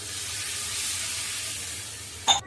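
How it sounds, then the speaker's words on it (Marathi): Water is poured into a hot dal tadka, giving a steady, loud broadband sizzle and hiss that holds throughout, with a brief sharper burst near the end. "त्याच्यामध्ये पाणी सोडून द्यायचं"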